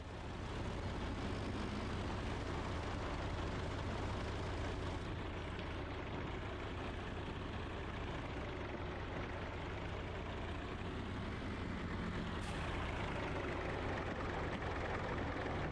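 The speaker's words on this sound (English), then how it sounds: "Lamborghini is not a bad tractor" Lamborghini tractor engine running in a farming video game: a faint, steady low rumble drones continuously for the whole stretch, even and unvarying like an idle, with no talk over it.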